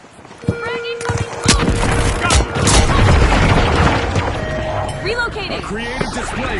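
A frag grenade goes off in the video game The Finals, one heavy boom with crashing debris rising over game noise and a commentator's voice, then a long rumbling tail as the chaos continues.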